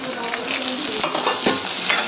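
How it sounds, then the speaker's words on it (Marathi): A dal tadka of onion, red chilli, garlic, cumin and mustard seeds frying in hot oil: a dense, bright crackling sizzle with a few stirring scrapes, close and steady. "मग आता टाकलाय कांदा, लाल मिरची तडका."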